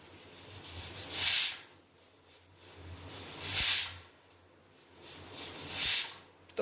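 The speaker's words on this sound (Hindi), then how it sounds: "तो कुछ इस तरह की सीटियाँ लगती है इस कुकर में ना।" Three loud bursts of high hissing steam from a pressure cooker whistle, evenly spaced about two and a half seconds apart, with quiet gaps between.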